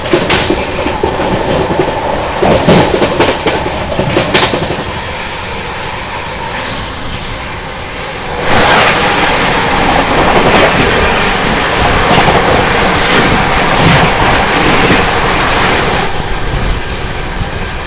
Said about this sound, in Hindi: चलो पहले रांची गरीब रथ की हाई स्पीड क्रॉसिंग दिखाते हैं आपको।